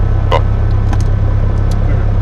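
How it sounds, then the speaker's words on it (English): A light aircraft engine is started and runs as a loud, steady, low rumble close by. Faint short clicks sit over the drone. "Engine start."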